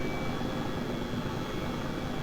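Airbus H135 helicopter flying low level over Fenland in Microsoft Flight Simulator 2020, a steady, loud broadband rotor and turbine roar that holds unchanged throughout with no voices.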